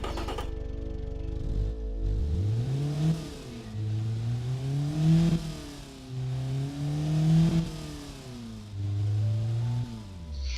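A stock modern car engine idling near 800 RPM then revved repeatedly toward 2000 RPM, smooth and fairly quiet, with several rising and falling swells close by.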